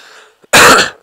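A single loud, harsh cough bursts out close to the mic after a brief pause, preceded by faint background noise.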